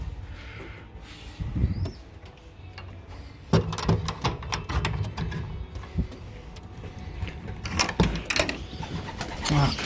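Pigeons in a loft with their young birds coo repeatedly, mixed with frequent sharp clicks, flutters and rustling from the birds moving about nearby.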